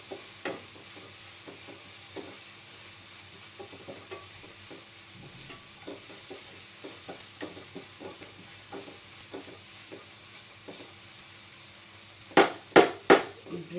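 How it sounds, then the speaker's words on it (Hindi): A spoon stirs spices in a hot pan for rawa upma, with steady rhythmic scraping over a soft sizzle and a few louder knocks against the pan at the end. "हम मसाले को थोड़ा पकने देंगे, 1 मिनट तक चलाएंगे।"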